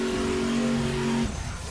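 A race car engine in The Crew video game holds a loud, steady high-pitched whine while over-revving at a drag race start, then abruptly drops off.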